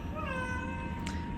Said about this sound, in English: he started meowing like that nonstop